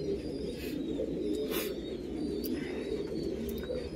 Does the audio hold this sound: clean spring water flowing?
no